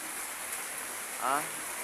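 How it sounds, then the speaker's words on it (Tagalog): Heavy rain hisses steadily and evenly, with a brief voice murmuring faintly near the end. "Ang lakas ng ulan."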